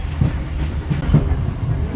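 Wheels of the KA Rajabasa train knock on the rail joints in a low rhythmic clatter under a steady rolling rumble heard from inside the carriage.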